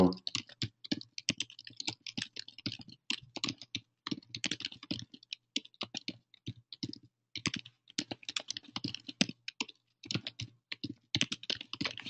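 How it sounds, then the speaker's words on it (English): Steady, rapid typing on a computer keyboard, fairly quiet and close, with irregular bursts of key clicks and brief pauses over about twelve seconds, no voices. "So I just typed in some phrases that I know people are probably typing in for that."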